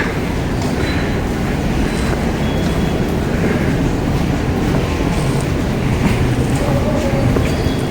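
A Busan Metro Line 3 subway train bound for Daejeo rumbles steadily along the rails with a constant loud roar and faint clatter, heard from inside the car.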